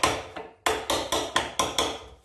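Plastic toilet bolt covers on a SIAMP wall-hung toilet being tapped into place, six sharp close knocks in an uneven rhythm, each ringing briefly before the next strike.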